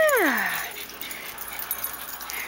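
Small dogs give a high, sliding whimper-yip up close at the start, followed by quieter rustling and faint movement as the little dogs mill about.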